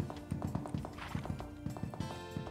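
Horse hooves clip-clop in a steady, rapid rhythm while riding in a Roblox horse game, moderately loud with faint background music.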